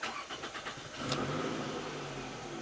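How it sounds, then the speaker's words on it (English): A car engine cranks with a quick burst of starter noise, catches, and then settles into a steady rumbling idle, all at a fairly low level. "Once everything is set up to add refrigerant, start the vehicle."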